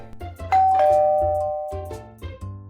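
Doorbell ringing indoors at a home, a loud two-tone chime whose tones ring out and decay clearly, with a few low thumps before and after, no speech.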